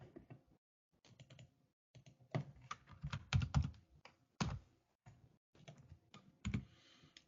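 Quick bursts of typing on a computer keyboard, close and fairly quiet, with clustered keystrokes and short pauses between them and no talk.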